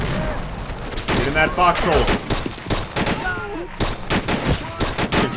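Heavy gunfire rages in a Korean War video game battle at Pork Chop Hill: dense, rapid rifle and machine-gun bursts crackle close and loud while someone shouts orders over the shooting.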